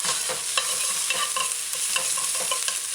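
Mashed garlic and callaloo (amaranth greens) sautéing in a pan, a constant close hiss and sizzle broken by soft scraping and stirring clicks.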